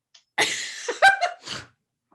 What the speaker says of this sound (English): Oh my God, did you just snort?